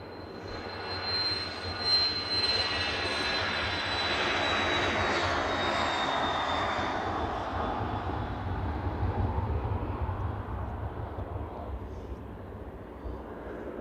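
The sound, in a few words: NetJets Embraer Phenom 300 business jet at Manchester Airport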